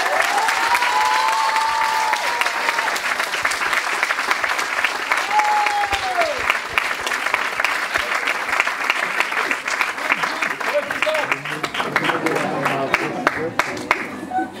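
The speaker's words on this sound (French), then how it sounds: "Il faudra applaudir pour tout le monde." An audience at the Si A Té Mo contest in Guyane claps in a steady, continuous round of applause lasting about fifteen seconds, with voices and a few rising cheers or whistles over it near the start.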